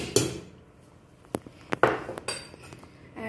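A spoon clinks and scrapes against a bowl while stirring pesarattu batter with added cumin, giving a few sharp metallic taps and clatters spaced irregularly over quiet pauses.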